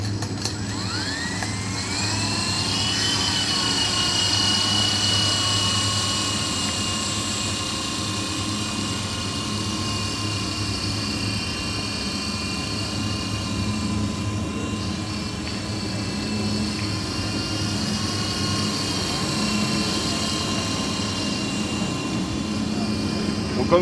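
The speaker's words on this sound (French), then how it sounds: "c'est un hélicoptère qui est très stable en l'air" A small 250-size single-rotor RC model helicopter spools up and hovers, a steady high whine with a rising pitch at the start, then a constant drone close by, with faint talk in the background.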